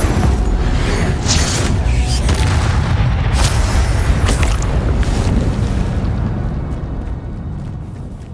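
The Incendio fire spell in the video game Hogwarts Legacy: a loud, sustained roaring whoosh of flame with booming bursts that slowly fades away.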